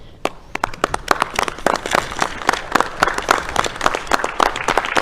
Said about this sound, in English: Would everyone please stand and give Donna a round of applause.